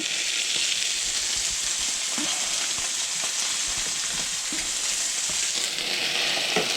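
Seared steak sizzling in butter in a pan turned down low, a dense continuous hiss and spatter with occasional faint pops, steady in loudness and unaccompanied by speech.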